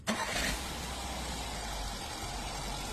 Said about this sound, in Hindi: गाड़ी को एक बार स्टार्ट करके देखेंगे गाड़ी की स्टार्टिंग कैसी है